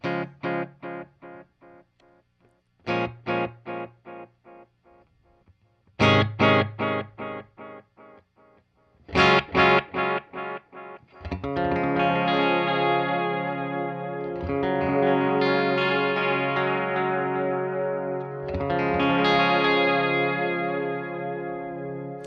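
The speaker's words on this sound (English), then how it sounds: "I've dialed in a tape delay here. So here is how the delay sounds just on its own." An electric guitar runs through a tape delay effect: sharp plucked notes each trailed by a string of fading repeats, then sustained, layered chords swelling into a washy, continuous wall of echoes.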